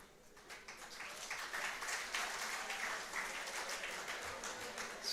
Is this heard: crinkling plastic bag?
no